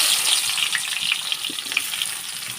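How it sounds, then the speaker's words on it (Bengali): Steady sizzling of onions frying in hot oil in a wok, continuous and close, with a few faint stirring clicks and no voices. "চুলাতে আমি কড়াই দিয়ে তেল দিয়েছি এখন আমি এখানে পেঁয়াজ কষিয়ে দিয়ে দিলাম"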